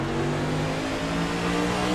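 NASCAR Cup Series race cars accelerate on a green-flag restart at Michigan International Speedway, a dense, continuous loud engine roar with no break throughout.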